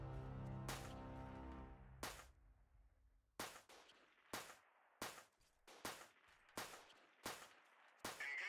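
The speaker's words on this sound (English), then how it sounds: "I feel like some of these shots should be hitting." Gunfire in the video game Freeman: Guerrilla Warfare: a string of sharp single shots, about nine irregularly spaced cracks each trailing into a short decay, fairly quiet overall with no talk over them.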